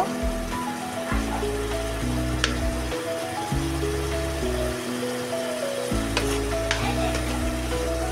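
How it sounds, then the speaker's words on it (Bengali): Spice masala stir-fried in a pan sizzles and crackles steadily for the whole stretch, with scraping stirs and a low hum of background music or drone underneath, and no one speaking. "এখন আমি এটাকে ভালো করে কষিয়ে নিব"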